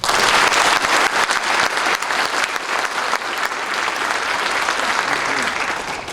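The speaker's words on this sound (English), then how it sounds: "Let's give the Marines a round of applause" Audience applause for Marines at a school Veterans Day program, a sustained crowd of many hands clapping, strongest at the start and easing slightly toward the end.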